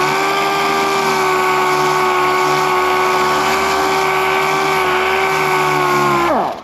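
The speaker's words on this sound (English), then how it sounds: "Let the sandpaper do its job, and just the cooler you can keep it, the better or the more efficient it will sand." A power sander works sandpaper against the painted body of an old Ford F100 pickup, a steady close, loud high-pitched whine held for about six seconds before spinning down at the end.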